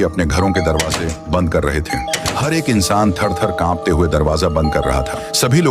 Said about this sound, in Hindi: रोज की तरह चारों ओर डोरबेल की आवाज गूंज रही थी।